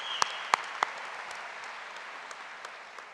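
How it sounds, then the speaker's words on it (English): New college students applauding at a welcome ceremony, a soft, distant patter of clapping from a large crowd, with a few sharp, close claps standing out near the start. "Give yourselves a round of applause."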